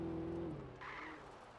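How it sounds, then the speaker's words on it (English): A muscle car engine in the video game Alan Wake hums low and steady, with a brief higher whine or tire squeal rising midway, fairly quiet and heard alone without talk. "Oh yeah, listen to that engine."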